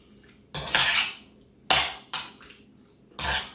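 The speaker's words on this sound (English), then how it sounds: "2 big spoonfuls of Zest For Life, and just get it mixed in" A spoon clatters against a bowl while stirring Zest For Life seasoning into chicken skewer ingredients, giving four separate scraping, clinking bursts with brief pauses between them and no voices.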